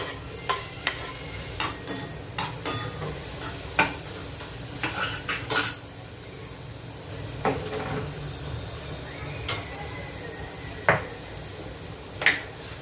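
A spoon stirring sautéed onion and tomato in a pan for a Kolhapuri-style amti, soft sizzling under repeated scraping and clinking strokes against the metal at an irregular pace, close and clear with no talk.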